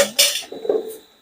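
Pots and utensils clink and scrape while someone cooks a tadka at home, two or three sharp metallic knocks close by, loud and brief with a ringing tail.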